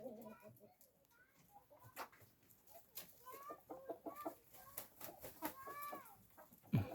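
Chickens cluck and chatter in short, repeated calls at close range, with a rooster among them and a voice speaking intermittently.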